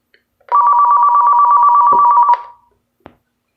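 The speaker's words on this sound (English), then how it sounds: "The phone rang." A telephone rings in one loud, steady electronic burst of about two seconds, then stops with a brief click afterward, close and alone without talk.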